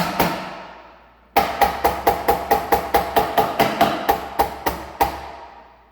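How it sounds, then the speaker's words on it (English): A hammer strikes a dovetailed wooden drawer on the floor in a fast, steady series of loud, sharp knocks after one opening blow, close by and with no voices. "I'm going to set it on the floor and just hammer away on it a bit."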